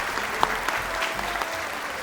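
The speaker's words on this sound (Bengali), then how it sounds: "এবার জোরে হাততালি হয়ে যায়।" An audience at a televised Police Idol talent show claps loudly to welcome the musicians, a dense steady round of applause with a few sharper individual claps standing out.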